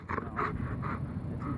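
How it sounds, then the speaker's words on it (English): German shepherd dog panting softly in quick rhythmic breaths, with faint whimpers mixed in, close but quiet and with no talk. "A beautiful dog."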